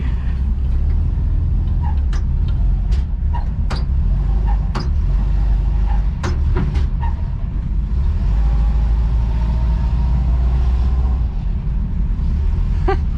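A car on its first drive after a starter repair rumbles along with a low, steady engine drone, loud and close, with occasional sharp clicks and knocks over the running noise.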